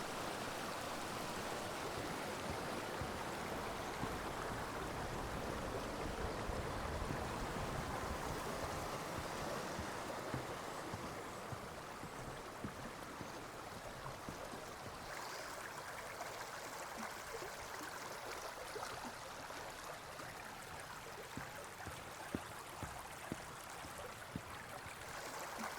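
Spring water wells up and flows steadily at the source of the Himekawa river. It makes a continuous broadband rush and babble that stays even and fairly close for the whole stretch, with no voices.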